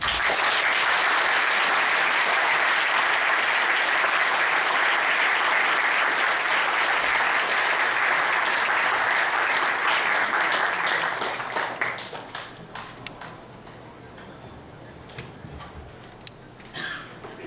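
Loud, dense applause from an audience welcoming Dr. Ramos to the podium at a university event fills the room, then thins into scattered claps and fades after about eleven seconds.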